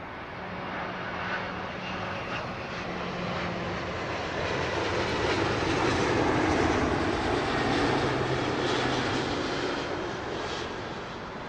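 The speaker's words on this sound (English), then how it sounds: "Flare just keeping it a few feet off the runway for a super soft touchdown." A light airplane, callsign Bed 172, flares and touches down softly on runway 09 left at Heathrow Airport in calm wind, its engine a steady broad roar that swells slightly toward the middle and holds, with no voices.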